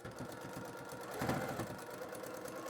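A sewing machine stitching fabric on a candy bag appliqué project, a steady, rapid mechanical whirring and tapping, faint and close, running continuously without pause.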